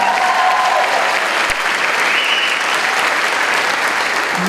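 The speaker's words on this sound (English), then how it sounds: "Give her a round of applause." A crowd at a school staff assembly applauds loudly and continuously, a dense wash of many hands clapping together with no pause.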